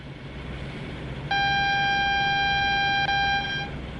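A train's warning horn in Train Sim World 3 on a UK line, one steady multi-tone blast lasting about two seconds that starts abruptly and fades out, over a low rumbling background.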